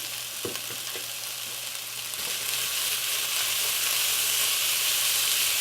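Chicken with about a tablespoon of minced garlic sizzles steadily in a pan, a close, even frying crackle with a couple of light stirring clicks near the start.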